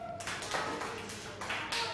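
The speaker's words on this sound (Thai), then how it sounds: "นะกลุ่มที่หนึ่งปรบมือให้วัวหน่อย" Group of schoolchildren clapping hands in a classroom, a few soft, ragged bursts of claps blending together, moderately close and fairly quiet.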